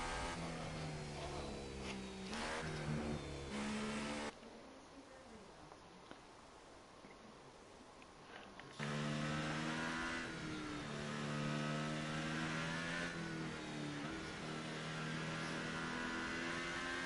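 Race cars in F1 2018 at the Japan round leave the pits one after another, engines revving loudly, with a quieter lull partway through before several cars accelerate away together.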